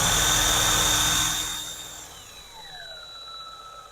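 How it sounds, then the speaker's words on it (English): A power drill spins the magneto of a 1951 Gravely Model L, whining loudly and steadily up close, then slowing as its pitch slides downward and fades into a quieter hum. "let's check it with the power drill"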